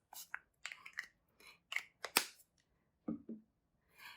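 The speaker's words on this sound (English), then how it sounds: "I'm going to spray my cards and my rocks" A spray bottle of cleansing spray is pumped over tarot cards and rocks in several short, sharp hissing bursts, close by, separated by brief pauses of quiet.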